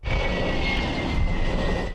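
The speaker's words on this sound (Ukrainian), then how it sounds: "У небі над Швецією здіймається літак раннього попередження та управління АС 890 більш відомий як СААП 340" A Saab 340 airborne early warning aircraft flies overhead in Sweden, its propeller engines giving a loud steady drone with a sustained whine throughout.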